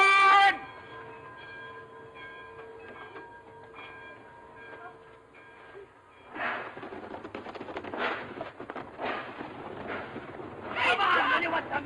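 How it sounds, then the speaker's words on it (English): Train in a 1932 film, first a brief horn-like tone, then a rumbling, hissing run of clattering wagons building in loudness toward the end, with voices faintly mixed in. "Come on, get on this train."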